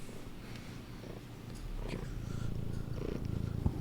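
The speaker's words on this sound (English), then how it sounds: "He's purring." A pet cat purrs close up, a low continuous rumbling that grows slightly louder toward the end, with no talk over it.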